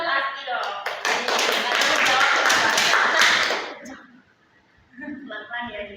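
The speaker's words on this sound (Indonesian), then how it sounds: "tepuk tangan buat Asti dong" A classroom group applauds a student with a dense burst of hand claps lasting about three seconds, then fading, with a voice speaking before and after it.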